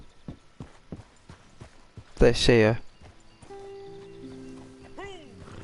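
Horse hooves clip-clopping at a steady walking pace in the video game Red Dead Redemption 2 Online, with a loud whinny partway through and someone speaking briefly over the steps.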